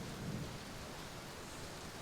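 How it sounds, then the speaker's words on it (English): Steady rain falls outdoors on a wet day, a continuous dense hiss of drops with a faint low rumble underneath, even and unbroken throughout. "I'm going to go outside and it's raining today."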